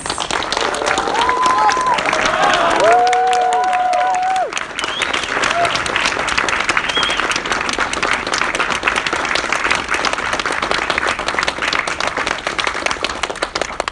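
A convention audience at Montreal Comiccon applauding actor and author William B. Davis: dense, sustained clapping throughout, with a few cheering voices near the start.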